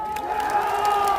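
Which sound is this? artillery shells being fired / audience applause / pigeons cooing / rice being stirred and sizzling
audience applause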